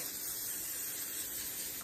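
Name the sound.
cooking spray sprayed on a pan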